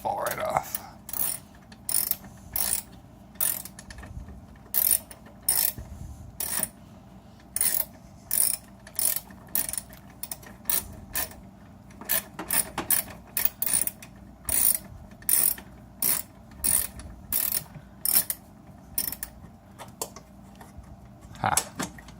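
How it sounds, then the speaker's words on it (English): A ratchet clicks in steady bursts while backing a bolt out of the AC drier on a 2003 Jeep Wrangler TJ, close and crisp, with brief pauses between strokes. "we're just going to finish taking the bolt all the way out and it should fall right off."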